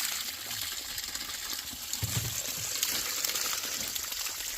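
Water gushes in a steady, loud rush from a dry water well freshly treated with a low-pressure frack, a continuous outdoor torrent with no pauses.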